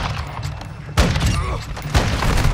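SAB-50 sniper rifle in Modern Warfare 2 fired in two sharp, booming shots about a second apart, each followed by a mechanical bolt action, loud and close with faint talk underneath.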